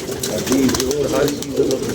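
Pigeons coo in low, throaty, repeated calls that swell and fade across two seconds, set against a busy background with muffled voices nearby.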